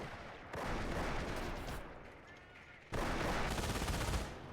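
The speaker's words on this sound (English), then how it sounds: "this MG42 is managing to hold this line back" An MG42 machine gun fires in Company of Heroes, two sustained rattling bursts of rapid gunfire at moderate distance, separated by a quieter lull.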